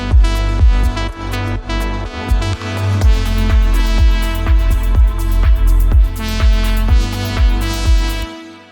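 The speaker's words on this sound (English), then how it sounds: "first lead synthesizer coming back in the second drop" Lead synthesizer returning in the second drop of a deep house track, bright sustained harmonic notes riding over a punchy, steady four-on-the-floor kick pattern, loud and full with no voices.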